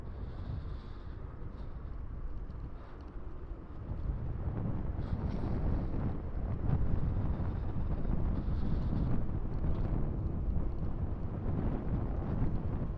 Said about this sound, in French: Encore un vent froid en plus.